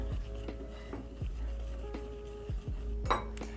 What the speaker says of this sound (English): I'll use a whisk and whisk together my flour, salt, and sugar